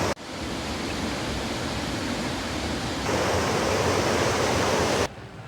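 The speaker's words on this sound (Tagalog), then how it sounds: "Ganda ng ilog ngayon, lakas ng tubig." Steady, loud roar of river water rushing over rocks, continuous broadband noise with no voices, cutting off abruptly at the end.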